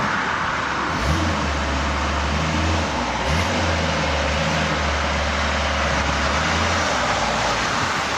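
A motorized aerial work platform on a construction site, driving with its wheels pivoting, heard as a loud steady electric-motor whine and hum with two brief surges as it starts moving again.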